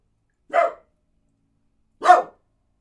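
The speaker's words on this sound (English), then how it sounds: "Be quiet, dog." A dog barks twice, loud and close, with a short sharp bark followed about one and a half seconds later by a second, fuller one, and silence between.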